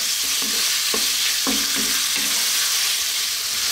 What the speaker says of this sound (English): So we're going to throw this around in the pan just for like 3 to 4 minutes